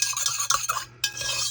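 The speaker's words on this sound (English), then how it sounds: "so give that a good mix" A spoon stirs Aquacast candle mix with scented essential oil in a cup, making close, quick scraping and clinking strokes against the sides in an irregular rhythm.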